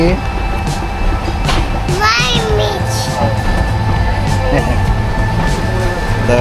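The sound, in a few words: Brahmaputra Express train departing Gafargaon station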